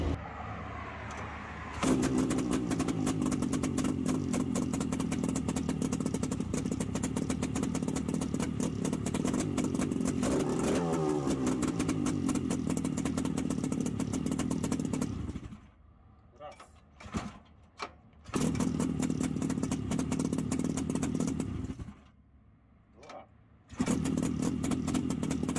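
A freshly assembled Buran snowmobile engine runs with a loud, steady buzzing drone, cutting out and restarting twice, with talking heard alongside.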